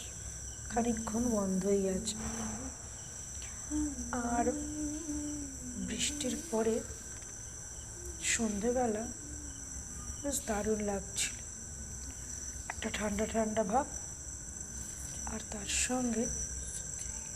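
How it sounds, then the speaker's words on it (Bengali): Continuous high insect trilling, crickets chirping steadily in the background on an evening after a day of rain, while a person speaks calmly over them. "ঝিঝি পোকার ডাক"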